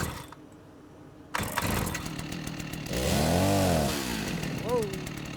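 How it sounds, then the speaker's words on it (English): A chainsaw in the survival video game Rust starts up and revs in a loud, steady burst after a quiet opening, with a rising whine near the end. "This is my chainsaw."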